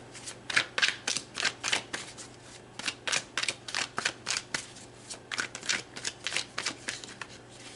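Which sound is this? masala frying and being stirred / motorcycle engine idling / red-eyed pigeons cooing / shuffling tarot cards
shuffling tarot cards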